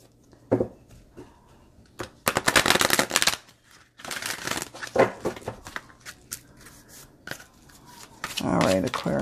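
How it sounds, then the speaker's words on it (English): Tarot and oracle cards are shuffled in several quick riffling bursts, close up, with soft handling noises and brief pauses between. "Actually, let me shuffle these."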